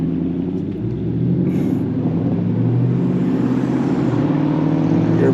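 Camaro SS or Charger RT cruising onto a freeway, a loud steady engine drone and road rumble heard from inside the car, continuous with no talking.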